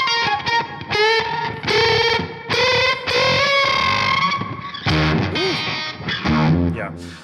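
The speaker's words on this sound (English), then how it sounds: "that octave sound I think is best when you turn the volume on your guitar down a little bit" Electric guitar played through an octave effect pedal, thick distorted notes and chords in short phrases with gaps between, loud and close, with a doubled, buzzy lower octave.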